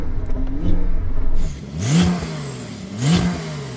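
The engine of a tuned 800 hp Porsche 911 Turbo S is revved twice in short, sharp bursts a moment apart. Each bark rises and drops quickly, moderately loud against a low background hum.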